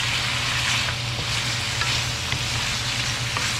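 Goat kaldereta stew being stirred in a pan, a continuous close sizzle and bubbling with faint scraping from the stirring, heard alone without talk.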